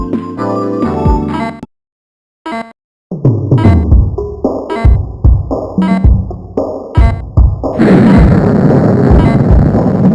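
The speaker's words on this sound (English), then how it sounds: "I am going to explode in 6 seconds." An explosion in the video game Elemental: Pirated Disaster follows music and a brief silence, hitting as a string of loud bursts and pops and then settling into a sustained, dense roar of noise.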